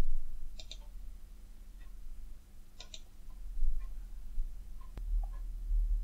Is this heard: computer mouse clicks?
yes